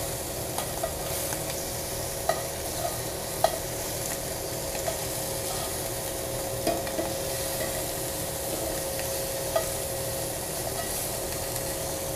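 Sous vide scallops searing in hot oil in a pan, a steady sizzle with occasional soft clicks and scrapes as they are turned, close and continuous without talk.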